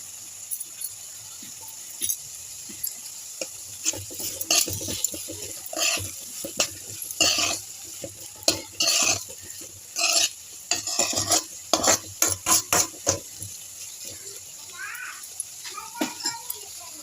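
Onions and curry leaves frying in a pan for egg curry, a continuous sizzle broken by repeated scraping stirs and occasional clinks of a spoon against the pan, close and fairly loud.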